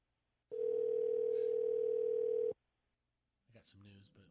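A steady ringback tone on an outgoing telephone call, a single two-second buzz heard clearly on the line, then a pause before a person starts talking.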